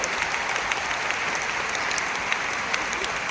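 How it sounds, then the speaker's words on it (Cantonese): A large audience at a concert in Malaysia claps in a dense, steady applause, slightly distant, with no single clap standing out. "喺度俾啲掌聲我哋嘅最年輕嘅"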